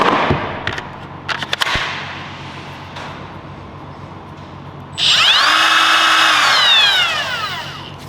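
A few sharp clicks and taps, then a cordless drill whirs up loudly and runs steadily for about three seconds, close by, with no talking.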